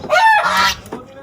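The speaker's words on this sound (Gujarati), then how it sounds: "ચલો હંસ પણ ઉતાર કરી રહ્યું છે તો એને પણ કાઢી નાખશું." A farm goose gives a loud, close, nasal honk, then a shorter second call.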